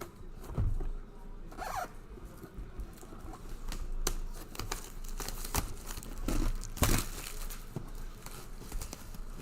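A sealed mystery box package of sports cards is cut and torn open, with a steady stream of close scratchy rasps, crinkles and sharp snaps of tape and cardboard.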